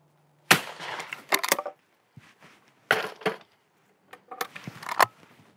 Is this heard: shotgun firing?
yes